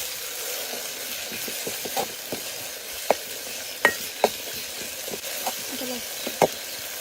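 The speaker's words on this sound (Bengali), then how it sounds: "এখন পরিষ্কার করে ধুয়ে রাখা চিংড়ি শুটকিটা দিয়ে নিচ্ছি। ভালোভাবে মশলার সাথে কষাই নিলাম।" Washed dried shrimp frying with ground spices in a pan, a steady sizzle under repeated scraping stirs and several sharp metallic clinks of the spoon against the pan.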